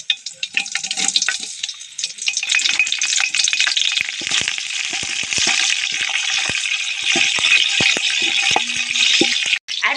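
Curry leaves dropped into hot frying oil for vegetable rice, crackling and spitting loudly up close, with sharp pops over a dense, steady sizzle that continues throughout.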